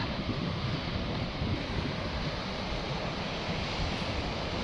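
Baltic Sea waves washing onto a beach near a car park about 20 km from the Polish border, a steady, soft, continuous surf roar mixed with wind rumble on the microphone, no voices.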